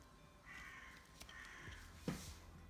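A crow caws several times nearby, harsh rasping calls spaced irregularly over faint background noise, with one louder caw near the end.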